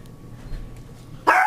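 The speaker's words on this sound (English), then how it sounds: "son's home, so the dogs are barking." Quiet room tone, then a single sharp dog bark near the end, fairly close and loud.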